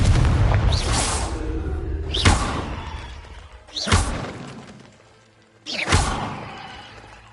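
Confringo blasting spells explode in Hogwarts Legacy, four loud booming bursts with a shattering crack, each preceded by a short whoosh and spaced about 1.5 to 2 seconds apart.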